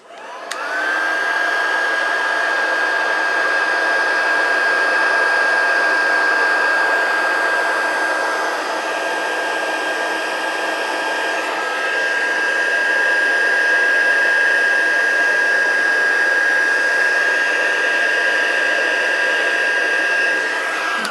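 A handheld heat tool blows steadily for about twenty seconds as embossing powder on a stamped card is melted, a loud, even whirring hiss with a high whine, with no talk.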